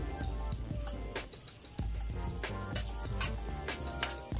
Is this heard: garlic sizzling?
yes